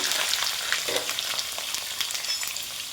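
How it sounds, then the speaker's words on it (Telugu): Sliced onions and green chillies frying in hot oil for a spicy brinjal and tomato curry give a steady close-up sizzle with dense crackle and occasional brief pops and stirring scrapes. "ఆయిల్ వేడైన తర్వాత సన్నగా కట్ చేసుకున్న ఉల్లిపాయలని పచ్చిమిర్చిని యాడ్ చేసుకోవాలి"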